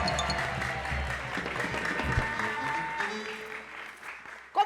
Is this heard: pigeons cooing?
no